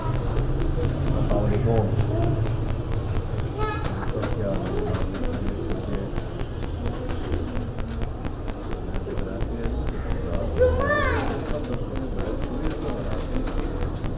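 Pigeons, low flyers and high flyers, coo and flutter nearby while people talk over them throughout.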